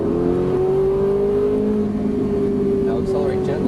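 A Ferrari 458 Italia at full throttle on a race track, its engine holding a loud, steady high-pitched drone close by, with a voice speaking over it.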